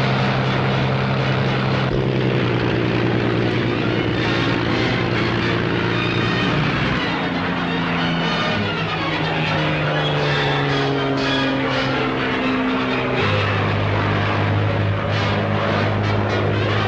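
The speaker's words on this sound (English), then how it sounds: "Fighters of the Royal Air Force go racing into action." Royal Air Force propeller-driven fighter aircraft, such as the Hurricane, roar past with a loud, continuous engine drone whose pitch shifts and drops several times as they race into action.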